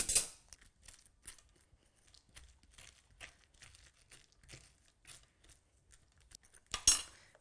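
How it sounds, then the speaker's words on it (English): A spoon scrapes seeds out of a halved butternut squash in a kitchen: a run of small, irregular scratches and clicks, close by, ending in a louder clatter. "So you scoop out the seeds"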